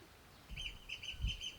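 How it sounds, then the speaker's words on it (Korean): Small birds chirping at a seaside car-camping spot on Jangbongdo island near Jinchon beach, a faint, brief series of high tweets over soft outdoor ambience. "새소리"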